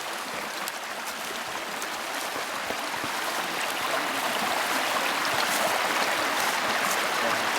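Creek water on the West Prong of Hickey Fork rushes and burbles in a continuous broadband wash, steady and close, with no voices over it.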